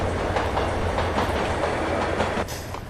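A train rumbles through Roscoe Street railway station in Max Payne, with a steady, loud, close rolling clatter of wheels over the tracks that continues throughout.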